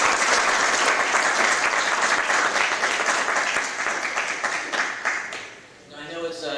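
An audience at a space development conference's entrepreneurial session applauds all the speakers, dense sustained clapping at fairly loud level that thins and dips near the end before a voice starts.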